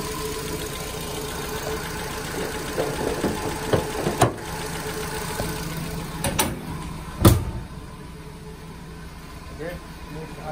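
A Nissan Grand Livina engine idles steadily with a rough, uneven rumble, broken by a few clunks and knocks before settling back to a low hum.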